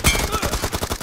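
Rapid video-game gunfire bursts out in a quick string of close, loud shots lasting about a second.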